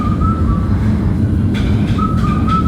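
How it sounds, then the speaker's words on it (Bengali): Steady, loud engine rumble with a thin high whine that comes and goes, continuous throughout as a large airliner taxis after landing at Sylhet airport. "বিমানটি সামনের দিকে আগাচ্ছে"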